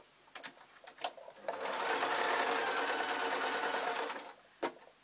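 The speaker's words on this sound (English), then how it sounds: "I am going to sew till 5 inches." A sewing machine stitching pleat-detailed office work dress fabric runs in one steady burst of about two and a half seconds, with faint clicks and handling taps before and after.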